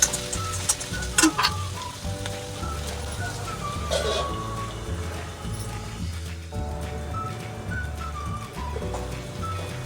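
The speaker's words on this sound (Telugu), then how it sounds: "సో త్వరగా వేగుతాయి ఆనియన్స్." Onions with salt fry in a pan with a steady, close sizzle and crackle that runs throughout, with occasional clinks and stirring noises over it and no voices.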